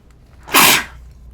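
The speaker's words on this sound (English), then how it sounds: "I'm gonna sneeze" A single loud, close sneeze bursts out in one sharp rush of breath about half a second in and fades quickly, with faint room quiet on either side.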